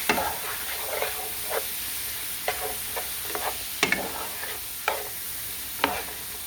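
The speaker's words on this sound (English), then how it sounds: "I'm going to continue to let this cook a little bit until more of the onions get cooked" Seasoned ground hamburger and onions cook in a skillet with a steady quiet sizzle, broken by intermittent scraping stirs and sharp utensil taps against the pan, with no voices.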